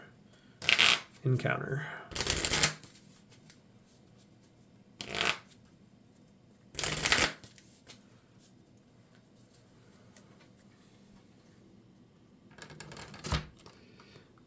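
Deck of playing cards shuffled during a Marvel Champions card game, several short riffling bursts spaced apart, with a person talking quietly at times between them.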